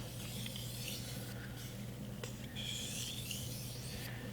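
A knife is stroked on a 3000 grit whetstone with light pressure, making a continuous soft, close gritty rasping with a repeated rhythmic scrape and no talking.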